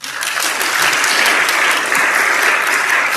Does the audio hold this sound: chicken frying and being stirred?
no